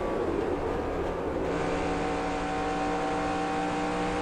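A race car engine in NASCAR Racing 2003 at Darlington holds a steady, loud drone with a rising pitch as the throttle opens, alone and unbroken.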